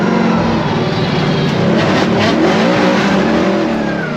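Ford Mustang drift car on a competition track, engine revving loud and sustained throughout, with a steady roar and slight pitch shifts as it is thrown into corners.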